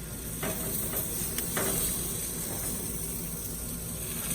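A porterhouse steak, just flipped in a hot pan, sizzles with a steady, close hiss and a few faint crackles, with no talk over it.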